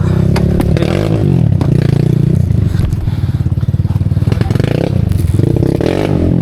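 Kawasaki KLX140G dirt bike engine working hard on a muddy mountain trail, a loud close revving buzz that rises and falls with rapid putters, clatter and thumps from the bike.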